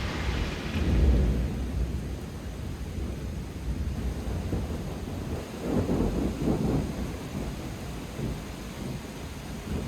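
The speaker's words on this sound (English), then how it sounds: "The rain is subsiding a little bit." Steady rain with rumbling thunder in the Dolomites mountains, a constant hiss of falling water and low rolling swells of thunder near the start and again midway, with no voices.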